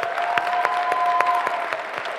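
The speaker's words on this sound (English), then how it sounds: "Let's give them another round of applause." A college convocation crowd applauds steadily, dense clapping with a few sharper claps standing out, and a faint tone lingering in the background.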